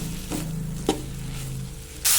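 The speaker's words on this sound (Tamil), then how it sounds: "நல்லா கிளறி விட்டுக்கோங்க" Okra stir-frying in a pan for a fry-style dish, a constant sizzle with a couple of sharp spatula scrapes and a brief loud burst of hiss at the end.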